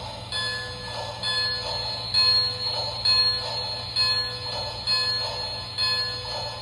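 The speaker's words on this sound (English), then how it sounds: "Let's hear the bell." An electronic bell chimes from a Lionel HO scale Berkshire steam engine in an Army Hospital train set, ringing over and over at an even, roughly one-second pace, close and clear over a faint motor hum.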